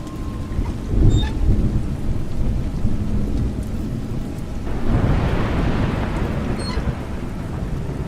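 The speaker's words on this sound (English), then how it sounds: "It's raining." Steady rain pours down with rolling thunder rumbling through it, a louder burst near the start and another swell of downpour midway, no voices.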